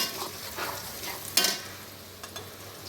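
Turmeric, chili and cumin-coriander powders fry in hot oil for a vegetable curry, a steady soft sizzle broken by several scraping stirs. One sharper scrape lands midway and lighter ones follow.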